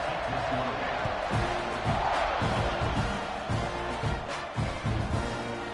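Texas A&M college football stadium crowd roaring in a steady, dense wash of noise beneath a commentator's voice.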